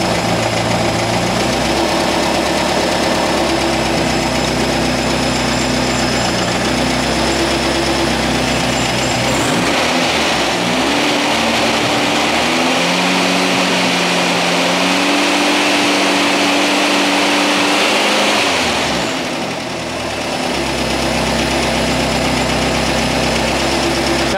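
Air-cooled Volkswagen engine fitted with a Solex H30/31 PICT carburetor idles steadily and loud throughout, a low droning hum whose pitch shifts slightly mid-way as the idle settles, with no talking.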